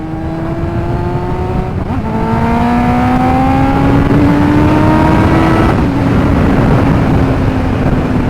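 Kawasaki ZX9R motorcycle riding along at an easy pace, its engine humming steadily close by with rising pitch as it gently accelerates, a brief shift near the start and another later, over continuous road and wind noise.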